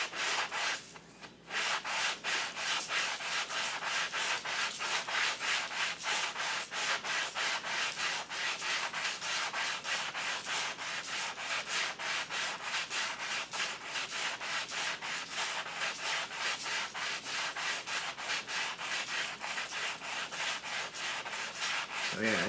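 Sandpaper rubs back and forth on a hardwood guitar fretboard in quick, even strokes, a dense rhythmic scratching that continues steadily and close up.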